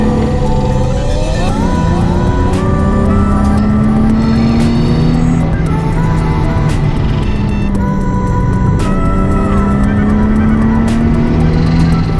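A Nissan 350Z is driven with its engine loud and close, revs climbing and falling through repeated gear changes in a steady, unbroken drone with no voices.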